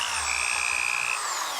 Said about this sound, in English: we will go ahead and get out the power tool. With the drill.